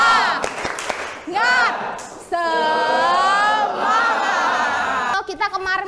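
A classroom of students performs the 'tepuk semangat' clapping chant, with loud rhythmic claps and a sustained shouted group cheer layered over each other.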